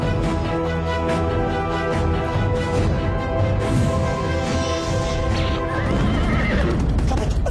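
A horse neighs loudly and gallops off, hoofbeats clattering steadily under a dramatic music bed, with the whinny rising near the end.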